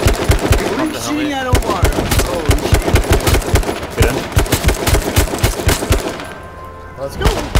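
Rapid, loud gunshots fire in H1Z1 King of the Kill, a dense rhythmic stream of close reports with brief pauses, while someone shouts excitedly over them.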